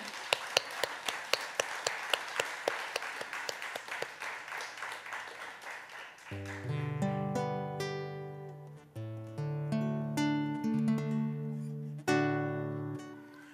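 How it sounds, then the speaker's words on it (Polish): Short, hearty audience applause at the 50th Bazuna gathering, a broad wash of clapping that fades after several seconds as a guitar-backed song begins and carries on alone. "poproszę o krótkie, gromkie brawa"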